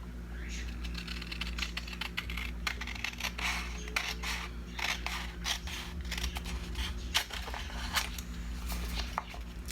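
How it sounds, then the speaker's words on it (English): Scissors snip through paper in a series of quick, crisp cuts at an uneven pace, close up over a low steady hum. "then you can just cut that with your scissors"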